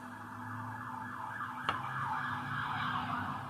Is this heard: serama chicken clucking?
no